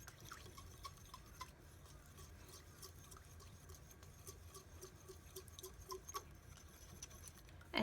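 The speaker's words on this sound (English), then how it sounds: "I'm going to mix this all together, try to get kind of a milky texture here" A milky liquid mixture for a craft project is stirred in a container, making soft, quiet, rhythmic tapping and sloshing clicks that repeat steadily throughout.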